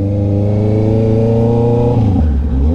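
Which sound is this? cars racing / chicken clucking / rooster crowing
cars racing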